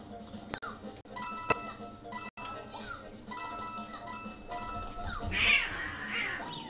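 Cats meow and squabble indoors, their cries rising over continuous video game music and sound effects.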